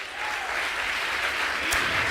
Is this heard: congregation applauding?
yes